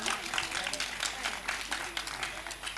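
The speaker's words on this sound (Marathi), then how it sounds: "त्यांच्यासाठी एकदा जोरदार टाळ्या होऊ द्या" Applause from an audience at a children's play against child marriage: faint, dense clapping that stays steady throughout.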